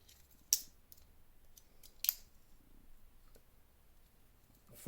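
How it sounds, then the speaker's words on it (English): Two sharp, quick snips of the small scissors on a Swiss Army knife a second or so apart, with a third at the very end, over quiet background hiss. "we have the scissors."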